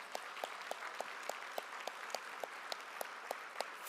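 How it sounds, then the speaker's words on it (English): Sparse applause at the 2022 YMCA Key Leaders Luncheon in North Texas for first responders, healthcare workers and elected officials, faint soft clapping from a banquet room with a few distinct regular claps standing out. "We want to give you a round of applause."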